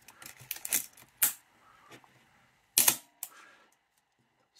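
Mirror lockup mechanism of an Olympus OM-1n SLR camera, sharp close mechanical clicks and snaps in irregular bursts with brief whirring between, separated by quiet gaps, alone.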